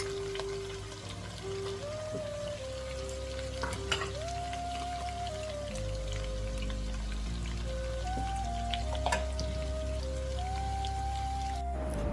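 Chicken sizzles steadily in a pan as onion-cashew paste is added, a soft continuous crackle with occasional sharper pops and stirring, under a faint background tune.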